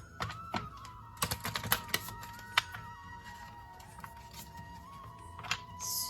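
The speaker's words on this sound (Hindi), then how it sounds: "This is my last shuffle." Tarot cards being shuffled make irregular soft taps, flicks and thumps in scattered clusters, close and quiet, over a faint steady tone in the background.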